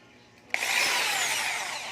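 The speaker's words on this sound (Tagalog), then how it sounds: "yung gamit nating pambutas itong barena" A power drill starts abruptly and bores steadily into wood, a loud, continuous whirring grind with no talking.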